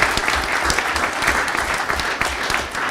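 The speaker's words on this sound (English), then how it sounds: "So let's give those schools a round of applause." A school board meeting audience gives dense, sustained applause for winning schools, with a thick wall of clapping and no speech over it.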